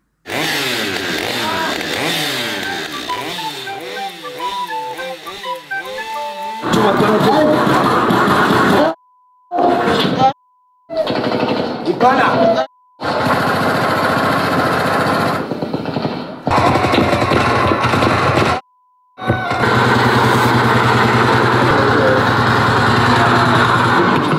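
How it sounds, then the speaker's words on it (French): A chainsaw with no chain fitted revs loudly and harshly, rising and falling in pitch with brief cutoffs and silences between bursts, close to the listener. "il n'y a pas de chaîne sur la tronçonneuse"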